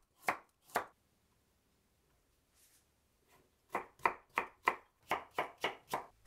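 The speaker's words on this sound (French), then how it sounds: "Je coupe en julienne 2 carottes" A knife cutting two carrots into julienne on a board, first two sharp chops, a pause, then a quick run of about nine even, crisp cuts close up.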